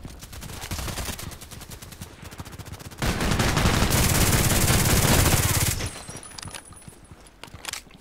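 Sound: Glock 18 gunfire in video game Contract Wars

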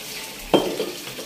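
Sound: dog washing dishes and plates

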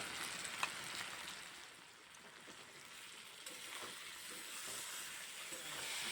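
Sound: frying taro pieces with green chili paste

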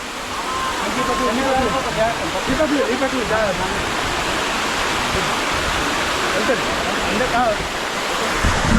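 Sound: Katiki waterfall in Araku valley, water falling

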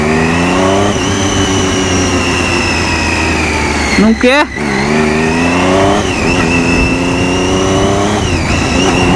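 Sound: Triumph Daytona 675 motorcycle engine revving

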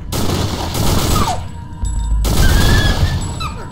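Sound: gunshots in a video game

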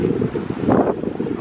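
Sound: wind at a beach on the Cote d'Azur

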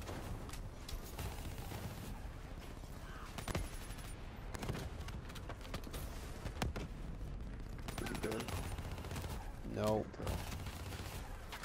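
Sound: gunfire in Black Ops 3 video game

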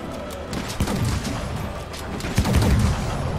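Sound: video game light bowgun explosions

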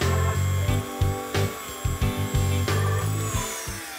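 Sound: Dremel rotary tool cleaning model locomotive wheels

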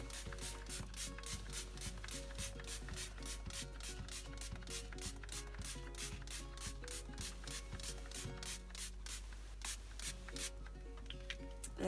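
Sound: spray bottle spraying bleach solution onto a T-shirt

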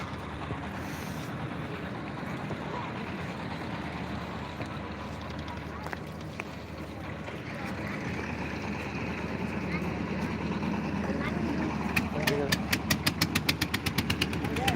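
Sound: motor boat crossing the Brahmaputra river

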